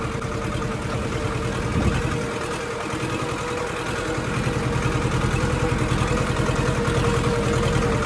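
A 24 HP 724 XM Orchard mini tractor engine idles steadily with a low, even putter throughout, fairly close and continuous with no voices.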